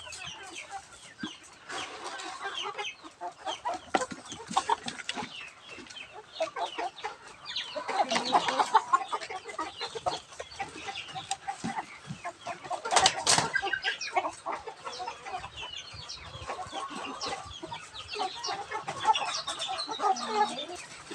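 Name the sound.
breeder chickens and rooster clucking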